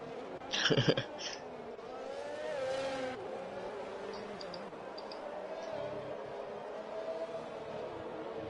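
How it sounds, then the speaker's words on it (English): Race cars lap the Mexico circuit in an online sim racing league, engines droning and shifting pitch with a brief harsh burst early on, while commentators talk over them. "And now in sector 2, Optic has spun again"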